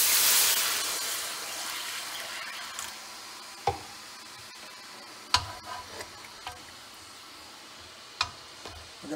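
Hot water poured into a very hot frying pan of garlic ginger chicken fried rice gives a loud hiss that fades over the first seconds, followed by quieter bubbling with sharp clicks and pops.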